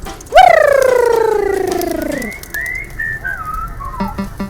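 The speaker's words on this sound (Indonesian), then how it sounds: "sobat-sobat merpati yang budiman, sudah sore nih, saatnya kembali ke kandang" Homing pigeons returning to their coop in the late afternoon give a loud, close, drawn-out whistling call that slides downward, followed by softer wavering notes and a few short rhythmic chirps at the end.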